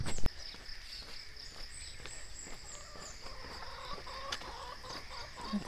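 Farmyard chickens cluck steadily at a nearby pen, soft repeated clucks and murmurs over a low background hum, with one sharper knock at the start.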